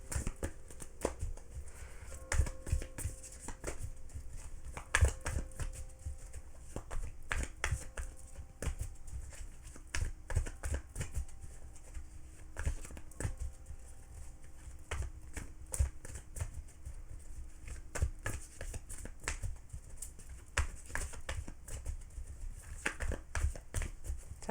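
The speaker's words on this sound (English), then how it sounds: "Sorry if I'm shuffling too long." Playing cards shuffled repeatedly before a pendulum reading, a steady run of quick riffling and flicking bursts, close and fairly quiet, going on without pause and with no talking.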